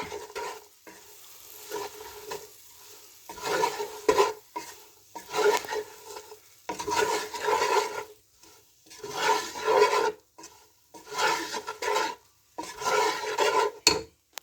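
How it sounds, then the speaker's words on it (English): Boiled pasta tossed and turned in a pan, giving repeated scraping, sizzling stirring strokes in uneven bursts, close and fairly loud, with no talking. "So we're going to add the pasta to that. As I say, this has been boiled. Okay, so give that a bit of a toss and a turn."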